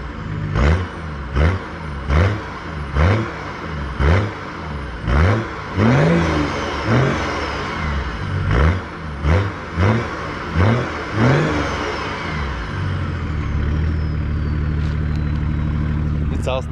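A BMW E34 525 TDS Touring with the 2.5-litre turbodiesel and straight-pipe exhaust, recorded from behind, revs repeatedly in short rising blips that fall back to idle, then holds a long sustained rev near the end.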